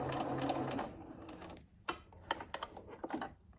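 A sewing machine back stitching a fabric mask, first a steady whirring run, then a series of short bursts of stitching separated by brief pauses, close and clear with no voices.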